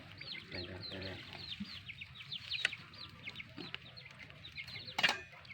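Chickens cluck and chatter close by in a rural setting, with repeated soft clucks and a few sharper calls over a low background.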